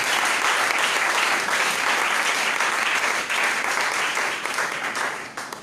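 Loud, continuous applause from a church congregation at a divine healing seminar, steady for several seconds before thinning slightly at the end.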